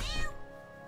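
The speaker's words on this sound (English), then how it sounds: "Oh, the kitty kitty." A cat in South Park: The Stick of Truth gives a single clear, close meow that trails off quickly, with no talking over it.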